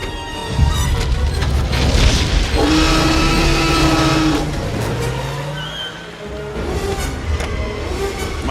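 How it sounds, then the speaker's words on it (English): A car engine starts and revs up to accelerate in a Jurassic Park chase scene, loud and close, with a rising engine whine, booming thuds and tire noise over a dense film soundtrack. "Start the engine."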